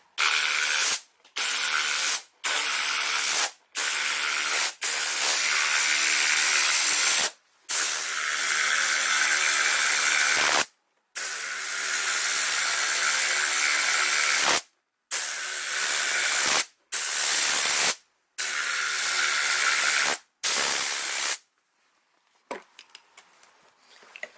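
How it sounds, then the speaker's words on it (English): Compressed air blasts from a blower inside a car's interior during detailing, loud, close hissing bursts in a steady series of about a dozen with short gaps, ending in quieter scattered clicks. "Now I'm just shooting straight air."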